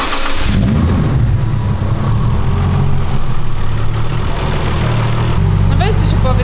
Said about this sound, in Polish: No to czas na pierwsze odpalenie i prezentację, jak pracuje serce